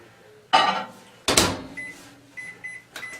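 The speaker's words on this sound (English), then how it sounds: "you throw it in your microwave." A microwave oven being loaded with a cup of water: two heavy thumps of the door or handling, then a series of short, bright electronic keypad beeps, close and fairly loud with no talking.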